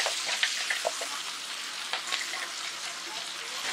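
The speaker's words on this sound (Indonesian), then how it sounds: "Sekarang masukin cabenya yang sudah di blender." Blended chili paste frying in a hot pan for Indonesian sambal, a steady close sizzle with occasional spatters and stirring scrapes, moderately quiet and without talk.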